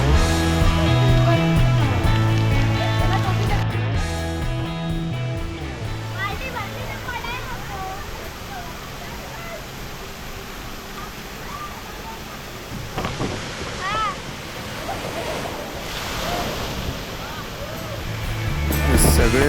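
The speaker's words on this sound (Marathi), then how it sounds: "इकडे मस्त बकेट भरून पाणी पडतंय" A big tipping bucket at a water resort near Mumbai pours water in a loud, continuous rushing splash, with crowd voices and chatter mixed throughout.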